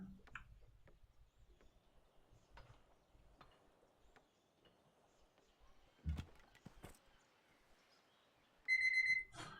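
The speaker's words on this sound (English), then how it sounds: "I thought I had a silent alarm." An alarm suddenly goes off near the end, a loud steady electronic tone lasting under a second after a quiet stretch of faint background sounds.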